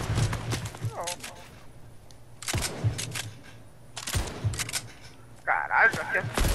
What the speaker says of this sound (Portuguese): aqui é tiro